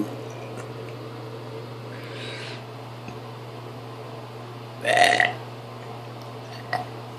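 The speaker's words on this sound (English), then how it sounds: "that's burp" A single loud, brief burp stands out against a quiet background hum, with a few faint softer sounds around it.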